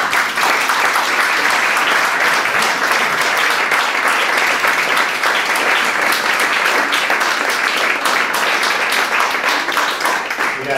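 An audience applauding at the close of a forum theatre performance, sustained dense clapping from a large crowd, loud and even throughout.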